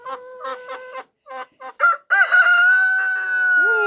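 A rooster crows loudly and close by, several clipped clucks leading into a long drawn-out cock-a-doodle-doo that fills most of the clip, with no talking over it.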